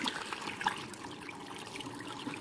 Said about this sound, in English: So here I'm just going to empty some of the water out